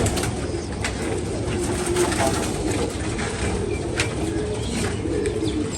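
Golden breed pigeons coo and call over a steady outdoor background hum, the bird sounds moderately loud and continuous with faint chirps scattered through, and no speech.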